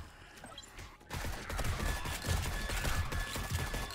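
Sustained video-game gunfire rattles in a dense, continuous burst after a quiet opening second, loud and steady with no talking over it.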